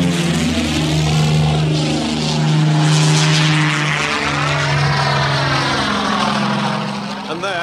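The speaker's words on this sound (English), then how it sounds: "I meant more choke on the engine!" Cartoon propeller fighter plane engine drones loudly and continuously, its pitch swooping up and down in long wavering sweeps as the aircraft maneuvers.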